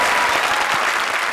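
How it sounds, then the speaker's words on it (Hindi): Audience clapping at a live comedy show on stage, a dense, loud burst of applause from the crowd that holds steady throughout the brief moment. "प्रिंस के लिए एक बार फिर से जोरदार तालियां."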